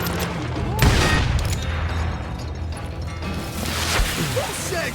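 Rapid gunfire crackles through a Call of Juarez Gunslinger shootout, dense overlapping shots and impacts forming a loud continuous barrage, with voices shouting over the fight.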